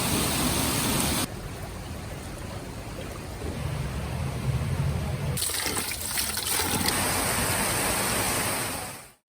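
Water streams flowing through the stone channels of Rasiglia, a small Umbrian town, a steady close rushing trickle that continues throughout, growing slightly busier partway through.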